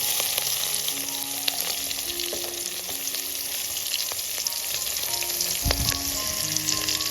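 Onions sizzle steadily in hot oil in a pan with cumin, salt and curry leaves, a dense continuous crackle with scattered pops and a stir near the end.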